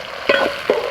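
Onions with a little salt are stirred and sautéed in a pan, giving a soft sizzle with two quick scraping strokes of a spoon close by.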